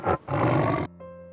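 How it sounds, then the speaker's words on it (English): A tiger gives a loud, close roar: a short burst, a brief gap, then a long sustained rumbling roar that cuts off and leaves a fainter tonal tail, with no voices. "A tiger's roar can be heard as far as 3 kilometers away."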